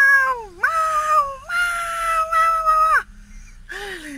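A cat sitting at its food bowl meows loudly and close, three drawn-out, wavering cries with brief pauses between them.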